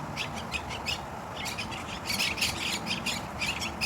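Parrots and parakeets calling by a lake outdoors, a chorus of repeated shrill squawks and chirps in irregular bursts at moderate distance over a faint background hum, with no talking.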